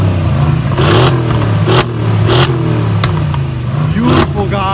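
Mercedes-AMG GLE63 Coupe engines, a 2015 and a 2021 model, rev loudly and up close in repeated swelling bursts with harmonic bands rising and falling, a few sharp crackles between revs.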